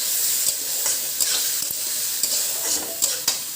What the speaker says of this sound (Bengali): দেখো চালটাকে কিন্তু নাড়াচাড়া করে ভাজছি